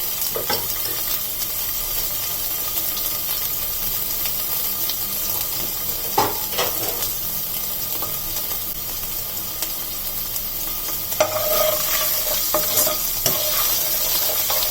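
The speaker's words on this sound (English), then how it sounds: "1 teaspoon of ginger garlic paste. Saute it well." Ginger garlic paste sautéing in hot oil in a pan, a steady bright sizzle running throughout, with a few scraping stirs and clatters of the utensil against the pan and no voices.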